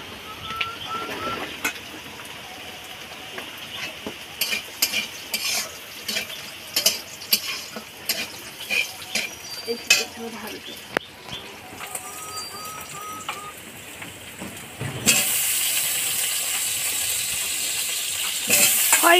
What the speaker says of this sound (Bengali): এই পেঁয়াজ আর এই রসুনটাকে ভালো করে লাল করে একটু ভাজতে হবে।